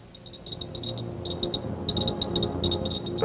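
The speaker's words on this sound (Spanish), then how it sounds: "La radiación normal del ambiente suena así." A radiation detector picking up normal background radiation, giving off small, irregular clicks at an uneven rhythm over a faint steady hiss.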